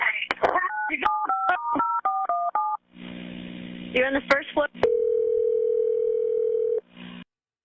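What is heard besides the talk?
telephone dialing tones after phone hung up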